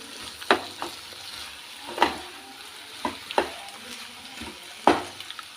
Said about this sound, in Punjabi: ਇਹਨਾਂ ਡੰਡਲਾਂ ਨੂੰ ਮਿਕਸ ਕਰ ਲਵਾਂਗੇ